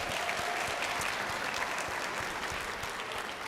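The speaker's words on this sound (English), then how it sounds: "please give yourself a round of applause" A keynote audience at a school behaviour forum claps steadily in a broad, even wash of applause that holds at a constant level for the whole stretch, with no voices over it.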